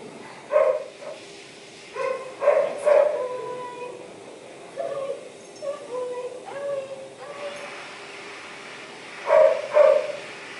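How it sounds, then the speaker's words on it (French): A dog barks and howls in several short bursts with pauses between, fairly close, with a low background hum. "Il ne fait pas juste se concentrer sur le chien qui jappe"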